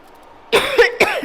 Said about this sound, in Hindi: मेरे सर दर्द होगी खांस खांस के, पीठ दर्द और सर दर्द।